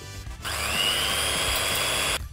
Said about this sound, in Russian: Белки и подсластитель взбиваем до образования пены